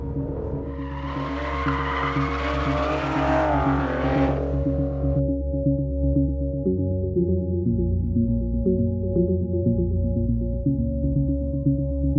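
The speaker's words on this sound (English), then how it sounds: "exiting out of a corner and just listening to that V12 sing" A 2014 Aston Martin Vanquish V12 revs hard and loud for about five seconds while exiting a corner, a rising, singing howl, then drops to a steady low rumble as the car cruises on.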